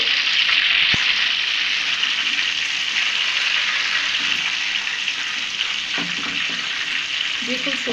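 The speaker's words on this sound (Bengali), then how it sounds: "খুব সুন্দরভাবে আমি জিলিপিটাকে ভেজে নিচ্ছি গোল্ডেন ব্রাউন করে" Apple jalebi fries in hot oil until golden brown, with a steady, loud, continuous sizzle and a few faint clinks of a utensil.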